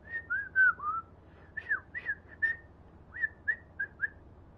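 A person whistles short, rising two-note calls to summon a character in The First Descendant, a sci-fi video game, repeated in bursts with brief pauses between them, close and clear over a faint low hum.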